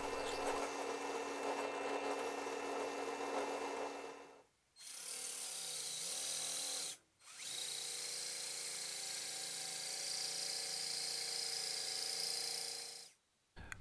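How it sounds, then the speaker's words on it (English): A small offcut of wenge hardwood for a vintage jitterbug fishing lure is drilled through for a pupil hole, a steady high motor whine running continuously with two brief pauses, close and fairly loud, no talking. "next we're gonna drill a hole through that small piece that I just cut off"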